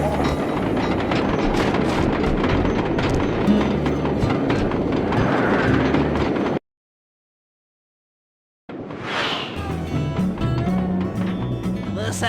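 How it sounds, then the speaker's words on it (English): A train in the PlayStation 3 game Sly 2: Band of Thieves rumbles and rattles with a dense, continuous clatter, broken by about two seconds of total silence before the rolling noise resumes just as loudly. "We'll get the job done, provided I can catch up with that train."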